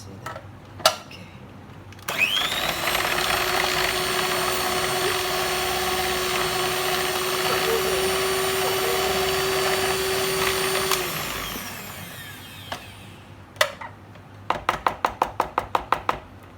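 A small, low-powered electric mixer runs steadily for several seconds while flour is worked into cake batter for a pineapple upside-down cake, with a few clicks and rattles around it and a burst of quick taps as it stops.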